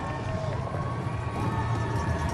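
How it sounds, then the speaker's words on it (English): A crowd lining the New York City Marathon course in 2016 makes a steady, dense roar of cheering and noise that stays loud and unbroken throughout. "Loud noise from the crowd."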